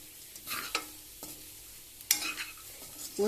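Minapa vadiyalu frying with onion, salt and chili in a pan: a soft sizzle under repeated scraping stirs, a few sharp clatters of the spatula against the pan, and no talking.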